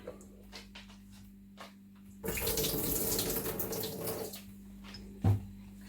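Water pours off soaked gelatine into a sink, a close, steady splashing stream lasting about two seconds between quiet kitchen handling sounds, ending with a soft knock.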